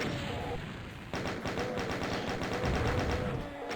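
A chain gun fires in DOOM: a rapid, steady stream of loud mechanical shots rattles on for about three seconds, mostly alone with little else over it.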